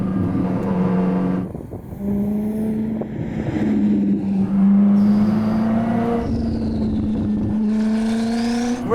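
A hypercar accelerates hard with manually controlled gear changes, rising engine pitch broken by several distinct shift drops, loud and close with no talk.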